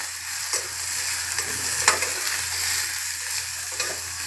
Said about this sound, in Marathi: हळद अर्धा चमचा लाल तिखट आणि पाव चमचा गरम मसाला हे चांगलं परतून घेऊया